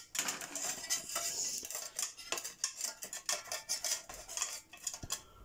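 Metal camping cookware, pots and a frying pan with matching handles, clinks and clatters as it is handled, giving irregular close knocks and rattles with no talking.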